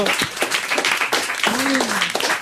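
Studio audience of a French radio talk show claps in a steady burst that continues throughout, with voices talking over it.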